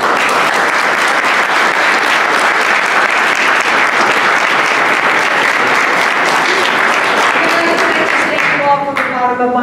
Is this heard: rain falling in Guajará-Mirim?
no